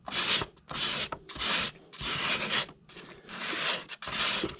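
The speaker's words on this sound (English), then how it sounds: "you push it like this, and you pull the sandpaper up" Sandpaper rubbed by hand over an epoxy patch on a boat hull, making about six steady, rhythmic rasping strokes close up, each a scratchy push-and-pull burst separated by short pauses.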